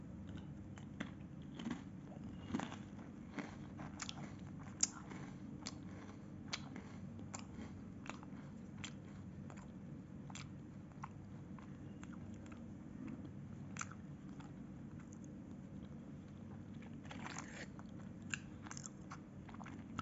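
A sour cream and onion flavoured potato biscuit is bitten and chewed close to the mic, with crisp crunches recurring irregularly over a steady low hum, no talking.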